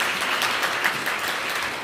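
Audience members at a lawmaker's final constituency report meeting give a steady, moderately loud round of applause throughout, with no talk over it.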